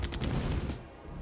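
Grenade blasts and gunfire in an EA combat video game, a dense continuous rumble of rapid shots and booms filling the whole moment, loud and close with no talk.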